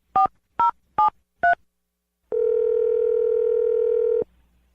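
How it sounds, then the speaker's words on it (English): Four quick touch-tone telephone dialing beeps, evenly spaced and close, are followed by one long steady ringing tone on the line, with no talking. "let's dial his phone number"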